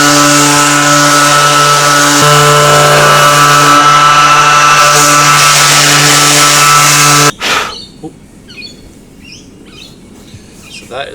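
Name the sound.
power sander sanding a car front bumper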